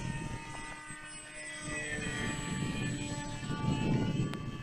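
A foam RC flying saucer model aircraft flies overhead on its maiden flight. Its propeller gives a steady, thin buzz that swells slightly over the few seconds, set against wind and outdoor background noise, with no talking.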